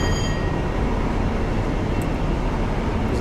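Brake rub from a Virgin Class 43 HST train in Train Simulator 2018, a steady dense grinding rumble with continuous noise, loud and unbroken for the whole stretch.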